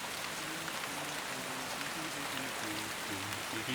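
Steady rain falling, a continuous broadband hiss holding even and moderately quiet throughout, with a faint tonal music bed running low beneath it and no voices.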